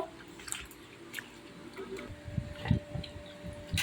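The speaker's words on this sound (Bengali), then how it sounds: "সব একসাথে মিলিয়ে আমি ধুয়ে নিচ্ছি খুব ভালো করে ধুয়ে নেব" Chopped potato, pumpkin and malabar spinach are washed together in water by hand, producing close, irregular squishing splashes and drips that grow louder toward the end.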